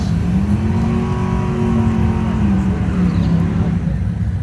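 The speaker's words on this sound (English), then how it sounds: "opening up a pair of slick tire cars" Slick-tire drag racing cars, a nitrous car and a twin-turbo car, accelerate down a northern Michigan dragway with a loud, sustained engine roar whose pitch climbs steadily, heard alone without talk.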